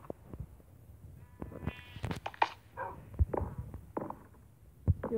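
A sheep bleats in a video game while a hospital is being built: several short, wavering bleats come close and clear, mixed with scattered clicks and thumps of in-game activity.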